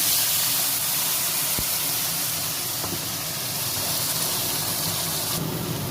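A ginger, garlic, onion and green chili paste sizzles loudly in hot oil with koi fish and black cumin, giving a dense, unbroken hiss close by, with one faint clink near the start.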